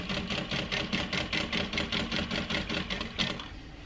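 A sewing machine runs steadily, stitching a handbag seam at a 4.5 stitch length, with a rapid regular mechanical rhythm that stays close and even before easing slightly near the end.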